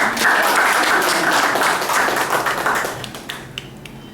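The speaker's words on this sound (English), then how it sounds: "Yeah, actually you have to all clap for them." An audience claps steadily for students, a dense wash of applause that holds loud for nearly three seconds before thinning out into scattered final claps.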